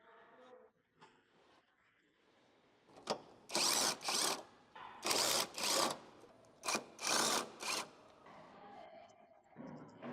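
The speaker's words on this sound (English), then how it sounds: "Use a 14mm socket with a long extension on an impact. Loosen the 3 bolts to the transmission mounting bracket." Impact wrench with a 14mm socket on a long extension loosening three transmission mount bracket bolts on a 2006-2011 Honda Civic, heard as several loud, close bursts of whirring and hammering, each lasting under a second, separated by short pauses.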